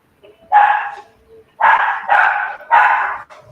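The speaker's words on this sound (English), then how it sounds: "Whose dog's barking?" A small pup barks in four sharp bursts, one short and three close together, loud and near, with a faint yip at the end and no talk over it.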